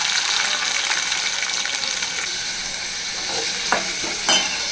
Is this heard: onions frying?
yes